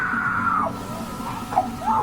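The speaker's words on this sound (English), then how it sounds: "She lets out yet another scream," A woman screams in a shopping area with onlookers around, a sustained high wail that falls off and then rises again in short cries over a steady, noisy background.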